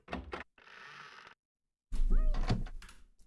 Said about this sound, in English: Let's try the left door.